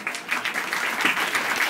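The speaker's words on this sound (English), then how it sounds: "Get a round of applause." An audience applauds a woman who has just been asked to stand at an event, with steady clapping from a crowd that holds at an even loudness and has no voices over it.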